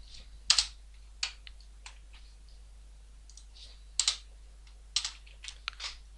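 Sparse, quiet keystrokes on a computer keyboard as code is typed: irregular single clicks and short clusters close to the microphone over a faint steady hum, with no talking.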